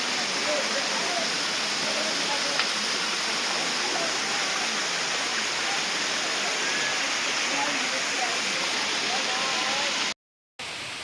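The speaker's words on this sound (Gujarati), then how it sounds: "મિત્રો સુંદર મજાનો આ ધોધ છે" A waterfall on the Vishwamitri River at Pavagadh roars steadily throughout, a dense, continuous rush of falling water with faint voices underneath, cutting out briefly near the end.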